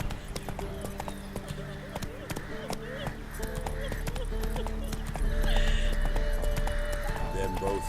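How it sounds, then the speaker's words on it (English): Horse hooves clip-clopping at a gallop in The Witcher 3, with occasional whinnies, steady rhythmic hoofbeats under spoken game dialogue. "Ah, come on, Roach."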